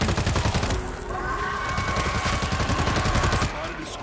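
Heavy gunfire in the World War Z co-op shooter, dense overlapping bursts of shots rattling continuously for about four seconds, loud and close, with game effects layered underneath.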